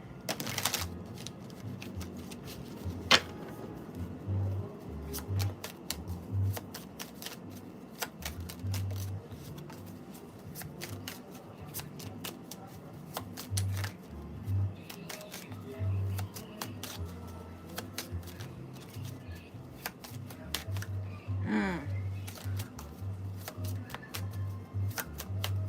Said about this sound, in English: Let me shuffle these up